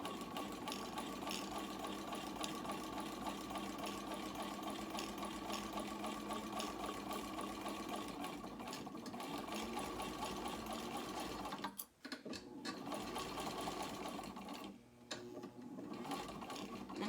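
A sewing machine stitches a small crossbody bag along its edge and down into the lining in a steady, fast mechanical whir, close and continuous, with a brief stop near the twelve-second mark and a dip around fifteen seconds.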